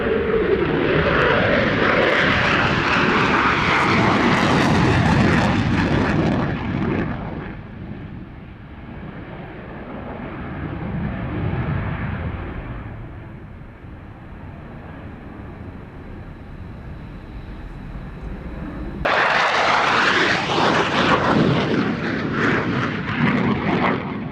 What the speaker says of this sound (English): The Belgians certainly do know how to fly their F-16s